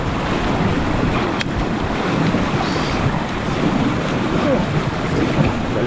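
A strong river current rushes steadily during a carabao crossing, a loud continuous roar of flowing water mixed with wind buffeting the microphone, with no clear break across the whole stretch.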